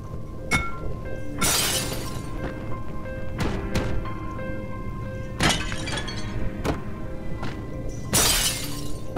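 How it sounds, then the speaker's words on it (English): Objects smashed in the horror video game Amnesia, a series of loud, close crashes that burst into bright glassy shattering, spaced a few seconds apart with duller thunks between them. "I hate you and I'm smashing your stuff."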